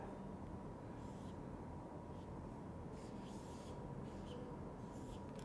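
Pen or marker strokes sketching a short-circuit diagram come through as faint, intermittent scratchy rubs over a steady low background hum, with no talk.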